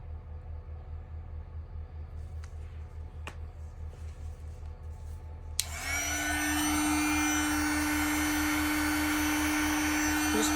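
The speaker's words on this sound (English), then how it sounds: "I'm just going to blow over top of it, kind of back and forth. And then cells should start forming." A click, then a hot-air tool switches on and blows loudly and steadily with a high whine over poured UV resin in a two-tiered tidal pool piece, after several seconds of low hum.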